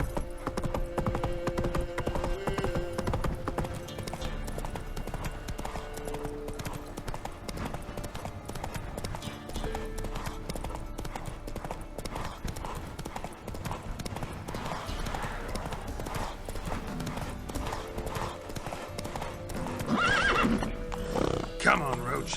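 Roach, a horse in The Witcher 3, gallops with steady, rhythmic hoofbeats over a low game ambience, and a whinny rises near the end.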